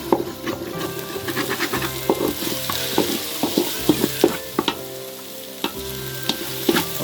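Chicken fried rice being stir-fried and mixed with masala in a pan, with a steady sizzle of frying under repeated sharp scrapes and clanks of a spatula against the pan, close and fairly loud, with no talking.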